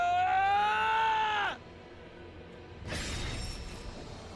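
A character's high, wavering scream rings out in the video game The Hundred Line: Last Defense Academy, lasting about a second and a half before cutting off into quiet, followed by a rougher burst of noise.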